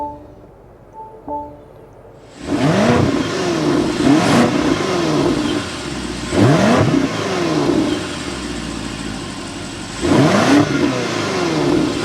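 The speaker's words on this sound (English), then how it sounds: "start up this twin turbo V8 so you can hear that exhaust note" A 2024 BMW X7 M60i's twin-turbo V8 fires up with a loud starter catch, then its exhaust barks through three sharp revs that settle back to a deep, throbbing idle between bursts, close by and with no talking.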